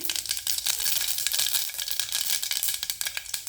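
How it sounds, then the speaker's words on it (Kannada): Mustard seeds spluttering and crackling in a couple of spoonfuls of hot oil in a pan on the stove, a busy, continuous sizzle of sharp pops at close range. "ಎಣ್ಣೆ ಕಾದಿದೆ ಈಗ ಸಾಸಿವೆ ಹಾಕ್ತೀನಿ"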